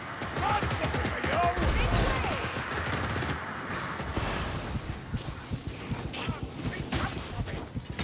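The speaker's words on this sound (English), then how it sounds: "Ignore the gunner's fire." A gunner fires rapidly in the Warhammer Vermintide video game, a steady stream of shots amid dense battle noise and clatter, with voices talking over the action.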